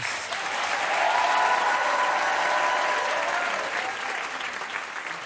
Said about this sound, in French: Vous pouvez applaudir encore Roméo Elvis.